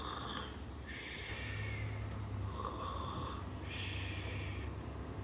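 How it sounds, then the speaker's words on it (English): A cartoon character snores loudly and rhythmically during a storybook reading, with several drawn-out rasping breaths that dominate the sound and no speech over them. "Then Larrie started to snore."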